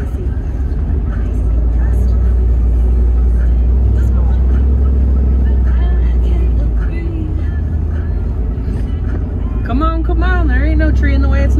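Turbo diesel truck crawling off-road in four-wheel drive, a loud steady low engine drone throughout with people talking over it and a brief whining or squealing sound near the end.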